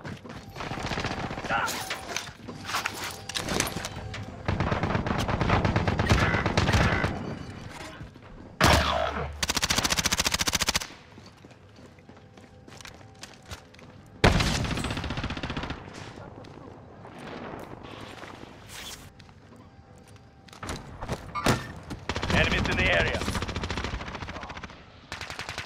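Bursts of machine-gun fire and scattered gunshots in a rebirth match of a shooter video game, loud stretches of rapid fire broken by quieter gaps, with occasional voices.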